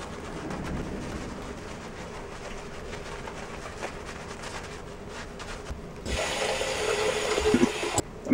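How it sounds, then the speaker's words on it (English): Hot water from a tap filling a bathroom sink, a soft trickle at first that turns into a loud, steady gushing rush for the last couple of seconds. "I'm going to fill up my sink with some hot water here"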